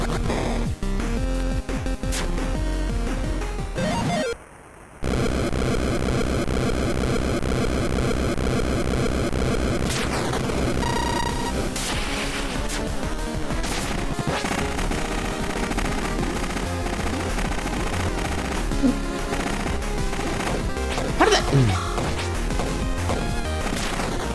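Cannons firing cannonballs in Heritage: A Dragon's Tale, heard as loud, dense repeated blasts and crashing impacts over a constant noisy game soundtrack, with one brief drop near the start.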